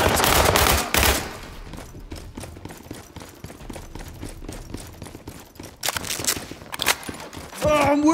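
Bursts of gunfire in the video game World War 3, with a loud volley at the start and another around the middle and end, separated by quieter stretches of scattered clatter and footsteps.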